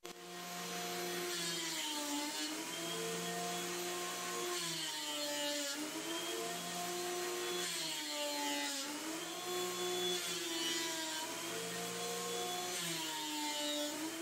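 A Craftsman planer on a homemade solid planer bed runs without pause as it planes a wood board. The steady, loud motor whine rises and dips in pitch in repeated waves as the cutting load changes.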